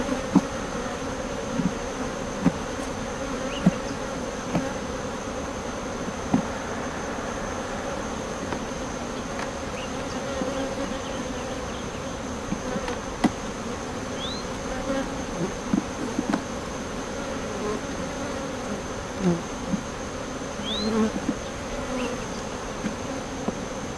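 Honeybees in an open hive during an early July inspection hum in a steady, soft, continuous drone, with individual bees buzzing close by now and then and faint clicks of handled frames.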